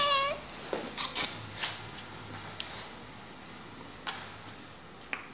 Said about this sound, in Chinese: 邻居家的小橘猫。